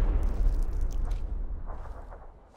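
A grenade blast in a PUBG match sends a heavy low boom out at the start, then rolls off into a fading rumble over a couple of seconds, with no voices over it.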